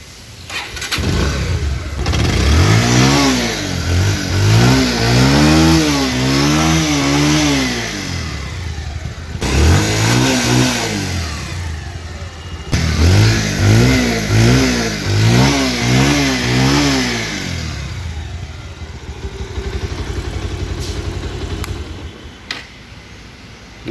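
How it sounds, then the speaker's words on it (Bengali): A 2019 Bajaj Pulsar 150cc motorcycle engine runs and is revved repeatedly, with rising and falling roars in several bursts between steady idling. The engine sounds loud and close, with no one talking. "ধীরে ধীরে আপনাদেরকে ইঞ্জিনের সাউন্ড শোনানো হচ্ছে।"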